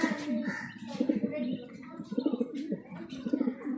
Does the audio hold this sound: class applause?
no